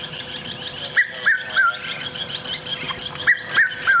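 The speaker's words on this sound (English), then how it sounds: "We'll listen to the red-chested cuckoo do it." A red-chested cuckoo calls during a sunrise safari drive at Nkuhuma, its repeated whistled notes sounding in two clear bursts over a busy chorus of other birds, moderately near and unaccompanied by talk.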